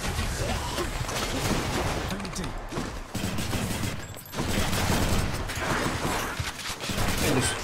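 Rapid shooting attacks and combat effects from the action video game Hades, dense and continuous at a steady loud level with brief dips, and no talk over them.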